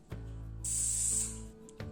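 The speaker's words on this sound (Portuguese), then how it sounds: "vai pegar essa pontinha aqui agora e vai dar um esquentozinho com um isqueiro" A lighter flame heats the cut end of a bracelet cord, a close, steady hiss lasting under a second, framed by soft clicks before and after.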